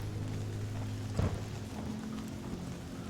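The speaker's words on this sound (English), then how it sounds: "Okay, so it's raining." Steady rain falls in The Walking Dead: Saints & Sinners, a soft continuous hiss with a low hum underneath and one brief louder rumble or splash partway through, no talking.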